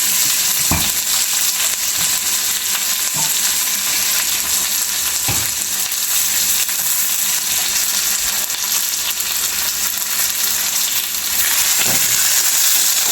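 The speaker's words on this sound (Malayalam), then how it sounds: "വെച്ചിരിക്കുന്ന വറ്റൽമുളകും ചെറിയുള്ളി കറിവേപ്പിലയും കൂടെ ചേർക്കാം" Dried red chillies, shallots and curry leaves frying in oil for a Kerala chicken curry, a loud unbroken hiss and crackle with occasional sharp utensil taps against the pan.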